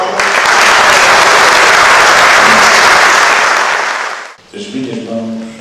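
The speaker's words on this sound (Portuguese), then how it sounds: "Vou pedir uma salva de palmas." An audience gives a loud, sustained round of applause at a Portuguese poetry event, the clapping dense and continuous for about four seconds before fading out, followed by a brief murmur.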